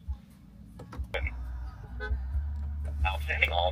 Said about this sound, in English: Let me honk of the horn whenever you hear your vehicle call